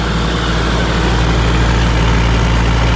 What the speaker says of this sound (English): Here you can see we have started the engine after completion of assembling. The engine is running smoothly